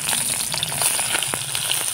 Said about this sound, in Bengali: যে পনিরগুলো খিচুড়ির সঙ্গে দেবো বলেছিলাম সেগুলো আমি এগুলো তেলে ভেজে নেব।